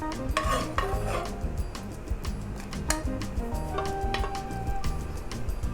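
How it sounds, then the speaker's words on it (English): Dandan zoodles scraped and spooned from a pan into a bowl: repeated metallic clinks, taps and scrapes of utensil on cookware, busy and close, with no talking. "So now I'm going to transfer this into a bowl and try it"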